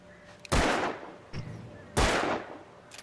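Gunshots in the Alan Wake Remastered game, two sharp loud blasts about a second and a half apart with a softer report between them, each trailing off in a short echoing decay over quiet ambience.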